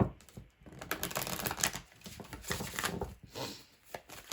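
Oracle cards being shuffled by hand, a busy run of papery rustles and quick flicks close by, steady for a few seconds with no talking.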